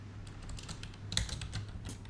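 Soft keyboard clicks from typing on a computer while a strategy game runs, a quick irregular patter over a steady low hum, fairly faint and without speech.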